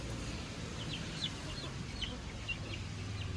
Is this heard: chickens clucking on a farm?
yes